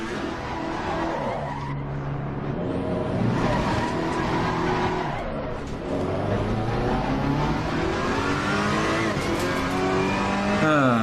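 A race car spins after contact with another car at Mount Panorama in Assetto Corsa Competizione, its tires squealing and the engine revving and swooping in pitch throughout, loud and continuous.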